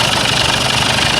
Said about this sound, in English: I'm doing 2 miles an hour idling along.